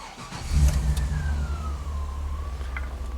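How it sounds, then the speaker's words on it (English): A GM truck engine with a reduced-power P1515 fault turns over and catches, then revs up with a rising mechanical whine, loud and close, with no voices. "Make sure the truck can fire up."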